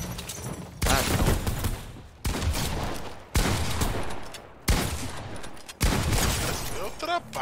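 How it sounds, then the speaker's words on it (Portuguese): Fortnite gunfire hits in loud, dense bursts of shots with brief pauses between volleys, layered over busy game effects. "O cara atirou."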